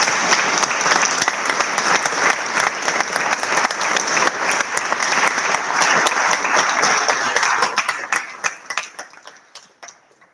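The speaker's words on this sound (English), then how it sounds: "Let's give Beka a big round of applause" An audience at a Buddhist sangha talk night gives a speaker a steady round of applause, full and even for about eight seconds, then tapering into a few scattered claps.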